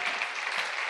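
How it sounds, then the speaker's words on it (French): Church congregation applauding during a sermon, a short, fairly soft burst of steady clapping from many hands. "Acclamons encore."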